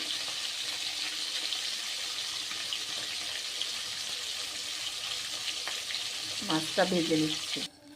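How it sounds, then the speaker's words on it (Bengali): Catla fish fries in a pan with a steady, close hiss of hot oil throughout. Near the end a short clatter of kitchen handling sounds, and the sizzle cuts off abruptly. "মাছটা ভেজে নিচ্ছি।"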